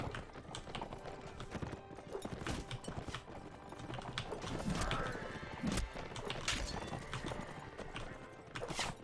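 Horse hooves in the Mount & Blade: Warband video game clatter in a steady clip-clop rhythm amid battle din, fairly faint, with scattered clanks and thumps throughout.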